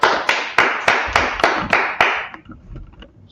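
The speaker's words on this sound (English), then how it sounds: "Clap it up for the class." A group claps together for a class, a run of sharp, evenly spaced loud claps that thin out and fade into scattered quieter claps.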